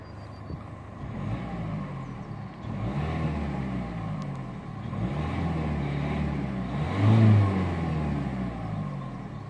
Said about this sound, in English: it is a pretty good sounding diesel engine